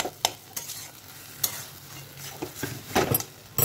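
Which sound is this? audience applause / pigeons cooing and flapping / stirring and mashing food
stirring and mashing food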